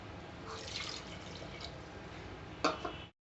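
Water poured into a pot of chicken kulambu: a soft, low background gives way near the end to a short splashing, trickling burst of liquid hitting the pot before it cuts off.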